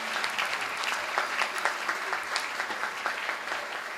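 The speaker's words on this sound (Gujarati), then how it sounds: "એકવાર આદિ માટે જોરદાર તાળીઓ સાથે." An audience at a Jain diksha event claps together in steady, moderately distant applause that carries evenly for a few seconds with no talk over it.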